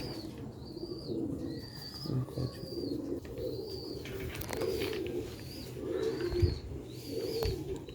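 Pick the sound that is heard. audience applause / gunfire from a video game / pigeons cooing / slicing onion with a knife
pigeons cooing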